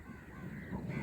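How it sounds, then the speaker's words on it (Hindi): Crows perched in a Punjab village corn field caw a few times under light rain, the harsh calls soft and somewhat distant over a faint outdoor background. "ये कौवे बैठे हैं।"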